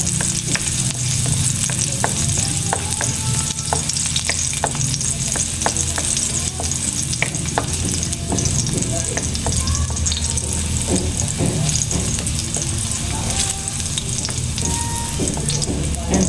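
Chicken sizzles steadily while frying in a pan, a loud, continuous crackle with occasional scraping stirs and clinks close by.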